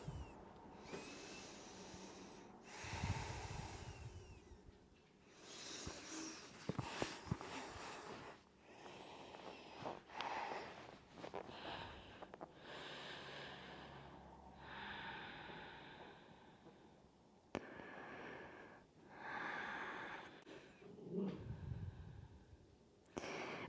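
Slow, deep breaths held through a yoga pose, soft and close, each long inhale and exhale rising and fading in an unhurried rhythm with quiet gaps between.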